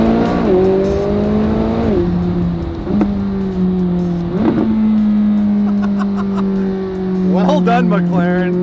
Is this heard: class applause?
no